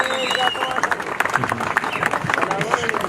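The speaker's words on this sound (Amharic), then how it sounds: "ለሱ ሞቅ ያለ ጭብጨባ ሞራል ስጡልን እባካችሁ" Audience applause at a hotel inauguration ceremony in Halaba Kulito town: a steady spread of clapping from a gathered crowd that runs through the whole moment, with voices mixed in.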